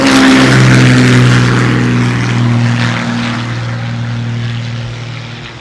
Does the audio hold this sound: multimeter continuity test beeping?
no